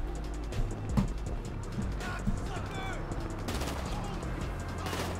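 Enemy gunfire in GTA 5 Online during a Diamond Casino & Resort mission, sharp shots and bursts over a steady game background, with someone talking throughout.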